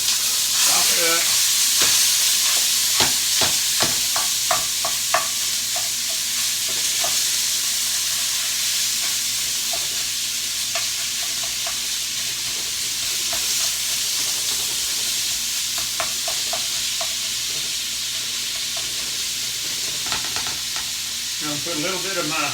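Regular ground beef frying in a pan on slightly lowered heat while being chopped up, with a constant loud sizzle and clusters of sharp scraping and tapping from the utensil; no speech.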